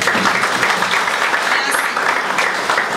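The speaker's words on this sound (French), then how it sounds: "Veuillez acquiescer les applaudissements d'honneur que l'auditoire adresse en votre honneur" An audience at an afternoon honouring ceremony for youth promotion applauds steadily: dense, loud clapping that fills the whole stretch without a break.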